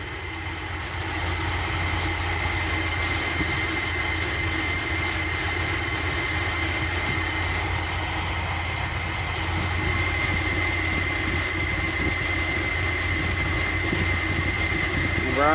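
A 1981 Dodge B250 custom Ram van engine idles steadily with a low, even rumble and constant mechanical hum, close up and uninterrupted throughout.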